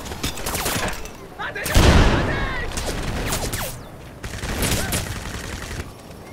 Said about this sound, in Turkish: Babali bizim bu silah tekli moduna almamız lazım. Çünkü çok fazla mermi gidiyor gerçekten.